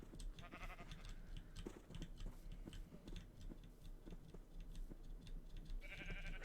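Sheep bleating in the Minecraft video game, short repeated calls scattered over a steady low hum and ticking game sounds, moderately faint throughout.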